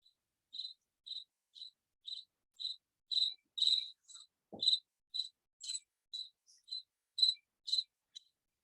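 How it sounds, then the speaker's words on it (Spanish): A cricket chirping sound effect plays in a quiet room, about fifteen evenly spaced, clean chirps at a steady rhythm, close and moderately soft with near-silence between them and no talk. "Ok, mi famoso grillo."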